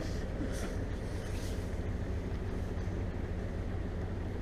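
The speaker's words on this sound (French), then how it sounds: "faire demi-tour avec un catamaran, c'est pas très compliqué parce qu'on a 2 moteurs" Twin outboard engines of a catamaran turning around on open water give a steady, continuous low drone with a constant level throughout, no voices heard.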